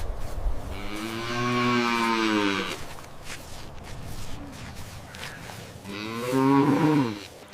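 A calf on a farm moos twice, loud and close, with a long drawn-out bleat first and a shorter rising moo near the end, separated by quieter shuffling.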